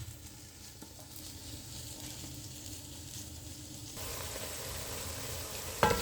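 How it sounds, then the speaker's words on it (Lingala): Onions fry in a pot with peppers for a cassava-leaf pondu dish, a soft steady sizzle that grows brighter and louder partway through, ending with a small metallic clink, no voices. "toza kokalinga ba matungulu na biso"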